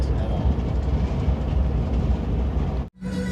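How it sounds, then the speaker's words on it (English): A train rumbles past on a railroad, loud and close with a dense low roar that holds steady before cutting off sharply near the end. "I don't know what train this is. Is this my train?"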